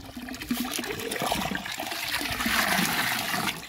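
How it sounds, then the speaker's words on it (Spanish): Chlorine poured into a water tank for drinking-water lines: a steady, rushing splash and trickle of liquid, close and continuous for several seconds with no talk. "vamos a echarle el cloro"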